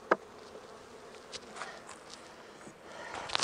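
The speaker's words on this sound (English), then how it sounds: "There's a lot of bees in this hive" A soft, steady insect buzzing with scattered brief clicks and knocks; many honeybees hum together up close during a hive inspection, with no talking.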